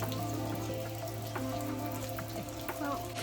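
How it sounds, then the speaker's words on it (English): Steady rain on Madeira pattering on surfaces with scattered drips over a constant low hum, continuous and fairly close. "it is raining everywhere on the island"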